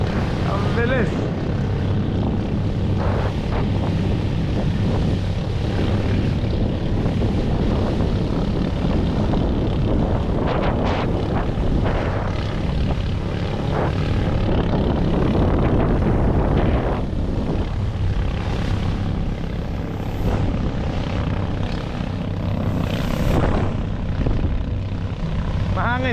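Strong wind buffets the microphone outdoors near the sea in Claver, Surigao del Norte, a constant loud rushing roar with an engine-like drone beneath, while people talk intermittently.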